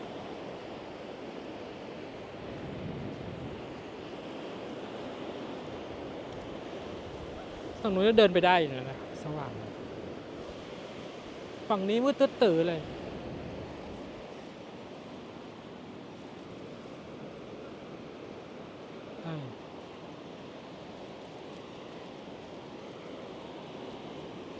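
A continuous hiss of surf and strong wind blowing across the microphone on Hua Hin beach, Thailand, at night, with a person talking briefly in Thai over the steady roar.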